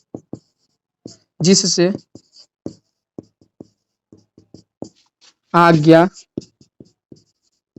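Chalk taps and scratches on a board during a Hindi grammar class, a string of sharp, close clicks and short strokes spread across the clip, broken by two brief bursts of a man's speech.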